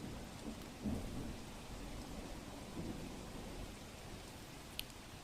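Heavy monsoon rain pouring over Rajkot, a continuous dense hiss of falling water with a few faint rumbles, steady and alone without voices.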